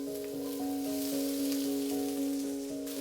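Red onions frying in a tablespoon of avocado oil in a non-stick pan over medium heat, a steady close sizzle with a faint crackle, alone with no talking.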